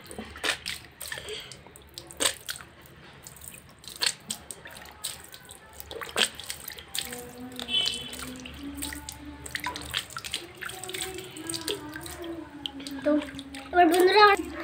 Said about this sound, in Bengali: দেখো তো বন্ধুরা আমি এখন চান করছি